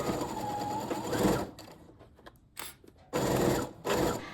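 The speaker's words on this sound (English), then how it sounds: "Bring everything together over your sewing machine and sew the ruffle to the neckline using a 1 cm seam allowance." A sewing machine stitches a ruffle onto a blouse neckline in short bursts, a buzzing mechanical whir that runs, pauses with faint fabric handling, then starts again twice, close and clear.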